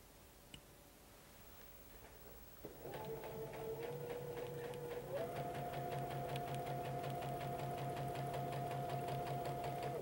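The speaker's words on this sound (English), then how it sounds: "Always guide your fabric with the stiletto as you sew your seams." A sewing machine runs steadily, stitching quilt fabric seams for a pineapple log cabin quilt, starting after a brief quiet moment and then humming on with a rapid even mechanical ticking, close and clear with no talking.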